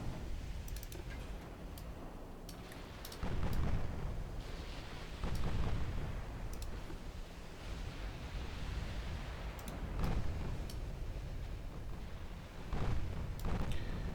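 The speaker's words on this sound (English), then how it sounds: "these arcing guns are kind of amusing me" Japanese naval guns with low-velocity, arcing shells firing in the warship game Ultimate Admiral Dreadnoughts: several heavy booming salvos rise from a steady rumbling, wind-like background at irregular intervals.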